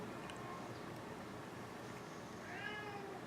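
A domestic house cat meows softly once or twice, faint and somewhat distant, over a quiet background hiss with no talk.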